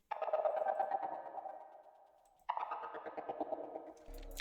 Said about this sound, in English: it's almost like a gate mixed with like a, I guess like a chorus effect